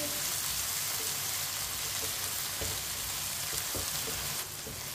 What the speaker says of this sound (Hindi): टमाटर को 2 मिनट के लिए मैंने पका लिया है चम्मच चलाते हुए।